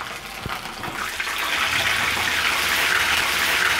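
Tilapia pieces are lowered into hot oil, and the sizzle swells into a loud, continuous, hissing rush after about a second, close up and without speech.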